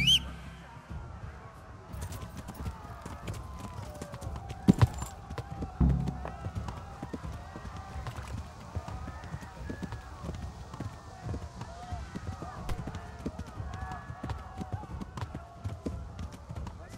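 Horse galloping in the video game Kingdom Come: Deliverance: steady, fast hoofbeats continue throughout at a moderate level, with a person talking over them.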